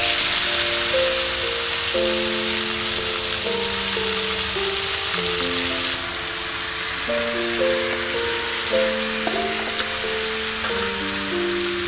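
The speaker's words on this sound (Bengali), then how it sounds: "এখন ম্যারিনেট করে রাখা মাংসগুলো কড়াইয়ের মধ্যে ঢেলে দিচ্ছি।" Marinated mutton poured into hot oil in a kadai sizzles and fries steadily for the whole stretch, a loud, even crackle with soft clinks and a tonal melody running alongside.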